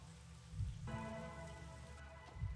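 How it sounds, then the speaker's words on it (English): Steady rain falling in the video game Master Detective Archive: Rain Code, a soft continuous patter with a low rumbling bed and a gentle tonal layer entering partway, quiet and with no talk. "Until recently, I despised this rain."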